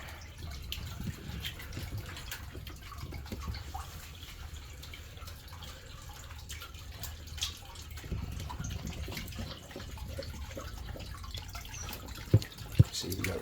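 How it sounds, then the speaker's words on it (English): A stream runs near a cave on a hiking trail, giving a low, steady rush of water with faint splashing. A couple of sharp clicks sound close by near the end. "See, we got running water right down here."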